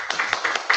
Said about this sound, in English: So please come clap for her again.